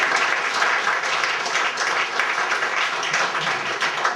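A theatre audience applauding after a performance, a dense, steady wash of many hands clapping throughout, fairly close and loud.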